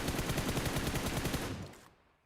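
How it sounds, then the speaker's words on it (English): A rapid, steady string of close, loud automatic gunshots in the mobile game PUBG Mobile during a competitive match, firing evenly for about a second and a half before fading out. "Some shots from Lord."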